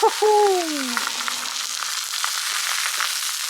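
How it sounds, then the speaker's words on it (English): Steady, close sizzle of a thick steak frying in olive oil in a hot pan, a continuous crackling hiss that follows a brief drawn-out vocal sound at the start. "Hear the sizzle. Sizzle, sizzle."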